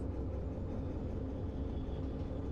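A train rolling forward in the video game Derail Valley, a steady low rumble that stays loud and even throughout, heard alone without talk.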